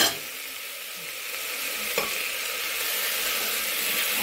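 Chana matar curry with chole masala and salt being stirred in a pan: a steady close scraping and soft sizzle, continuous throughout with one small clack near the middle.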